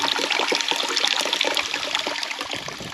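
Water from a naula spring in the Almora hills runs and splashes steadily nearby, a bright continuous trickling flow with no talking over it.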